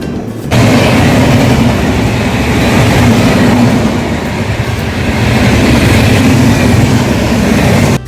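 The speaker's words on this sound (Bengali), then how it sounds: "এখন আমাদের ট্রেন প্রবেশ করছে 1007 কিলোমিটার পথ অতিক্রম করে আমাদের যাত্রাপথের 45 নম্বর স্টপেজ স্টেশন লখনউ চারবাগ জংশনে।" A long-distance passenger train runs on the rails heading into Lucknow Charbagh Junction, a loud, close, continuous rumble heard from aboard, with rhythmic clatter and booming after a quiet start.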